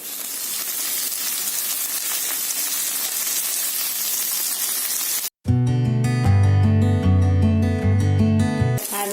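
Ingredients for fish biryani fry in a pan with a loud, steady sizzle and hiss for about five seconds before music abruptly cuts in and takes over.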